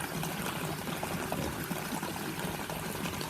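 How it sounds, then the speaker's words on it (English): Water churns and splashes steadily in an aquaponics system inside a geodome, a continuous, moderately loud rushing and pouring with no pauses. "Here the water movement is a little bit violent"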